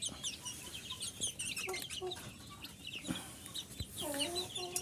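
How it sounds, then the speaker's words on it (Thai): A large-framed Burmese rooster clucks and calls in a farm pen, with repeated short clucks, a few chirps and other fowl nearby at moderate distance. "ไก่ที่มีกระดูกโครงสร้างใหญ่ นะครับพ่อไก่"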